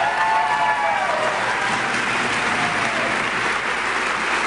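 Rally crowd at the Minneapolis Convention Center applauding Ron Paul, a dense, steady wash of clapping and cheering that holds loud throughout, with faint voices in the mix.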